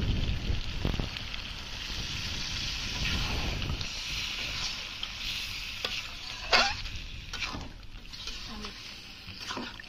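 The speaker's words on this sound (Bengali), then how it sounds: "মাংসটা কষা কষা রান্না করবো," Chicken curry meat is sautéed in a pan with little water. A continuous sizzle runs under repeated scraping stirs, with a few sharper knocks toward the end.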